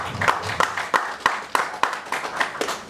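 Audience applause at a Lagos public forum on fighting crime: a steady run of sharp claps, about three per second, with a faint murmur of voices underneath.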